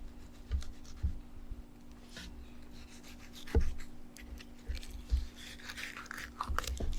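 Knife cutting up and over the rib cage of a freshly caught sea robin, giving soft close scraping and crunching strokes with a few sharper cracks through the bone, quiet and steady with no talk.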